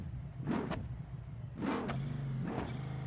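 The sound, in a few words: Ram 1500 truck with big engine in BeamNG Drive video game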